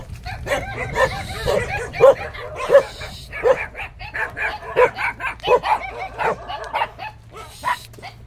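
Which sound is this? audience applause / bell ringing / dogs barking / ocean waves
dogs barking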